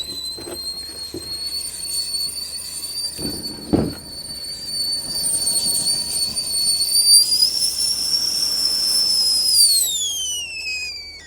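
A kettle on a propane camp stove whistles in a pop-up truck camper in 8°F winter cold. A shrill, sustained tone bends upward in pitch and then trails off, with a few soft clunks early on and low background rumble.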